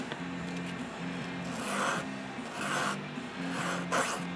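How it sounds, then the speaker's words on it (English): Small sanding stick rasping back and forth against a cheap leather stitching chisel, rhythmic close scratchy strokes in quick repeated passes. "here we have a little sanding stick"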